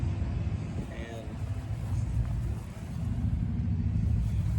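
Steady low rumble of a 1939 Massey Harris Super 101 tractor engine idling at an outdoor show, even and continuous close by, with a faint voice briefly audible over it.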